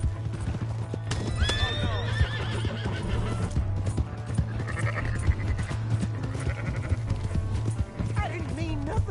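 Horse neighing and hooves clip-clopping in the open-world western game Red Dead Redemption 2, the whinny rising clearly over steady hoofbeats and game ambience, with brief character voices and sheep-like bleats mixed in.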